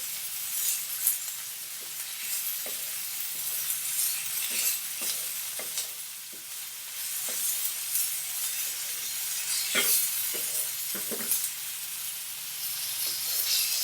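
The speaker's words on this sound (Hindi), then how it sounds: "अब आप इसमें अदरक और लहसुन का पेस्ट ऐड करेंगे और इसे मज़ीद 2 से 3 मिनट के लिए और पकाएंगे" Onions with ginger-garlic paste frying in a pan for a Pakistani egg curry, giving a steady close sizzle and hiss with occasional stirring clinks and scrapes throughout, no voices.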